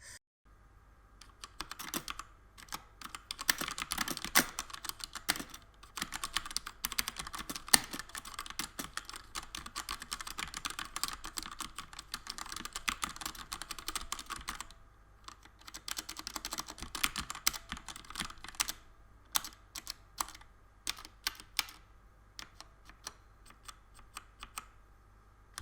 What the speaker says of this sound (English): Here's a sound test of the Cosmic Byte GK-16 with automotive